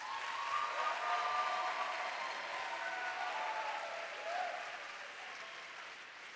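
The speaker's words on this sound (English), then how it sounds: "Can you all give these two or three people a huge round of applause?" Conference crowd at an IYF gathering gives a long round of applause, a soft, distant, even wash of many hands clapping with no voices over it.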